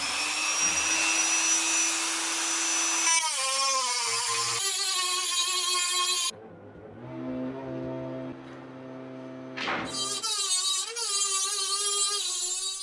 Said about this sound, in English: so I'm gonna grind that down and then I can remove that bracket